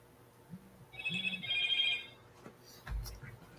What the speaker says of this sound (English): Mute my phone.